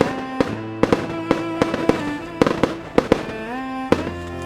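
Fireworks burst at a festival in a rapid irregular string of sharp loud cracks and bangs, some with brief crackling tails, over a continuous musical tone.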